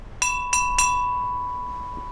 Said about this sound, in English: Mrs. Trinklebury suddenly tapped the side of her glass with a fork.